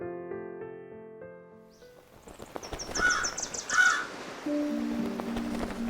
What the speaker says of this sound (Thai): มีอีกาตัวหนึ่งมักบินอยู่เหนือท้องทะเลเพื่อหาอาหาร